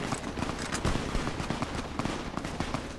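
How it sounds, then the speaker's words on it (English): Heavy gunfire in the video game Fallout: New Vegas crackles as a dense, continuous spatter of rapid shots, moderately loud and slightly distant, with no talking. "Man, that is a lot of gunfire, and I'm not seeing anything on the horizon"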